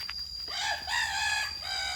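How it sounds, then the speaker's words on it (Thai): A rooster crows outdoors in a forest setting, one drawn-out call rising and breaking into a long wavering crow, fairly close and clear over quiet background. "โอ้ไก่ใหญ่มา"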